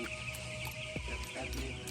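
Chickens in a crowded poultry house cluck and murmur steadily in the background, with scattered short calls over a constant low hum of the shed.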